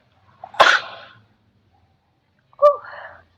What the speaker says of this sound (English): I know you're not supposed to sneeze into your hands.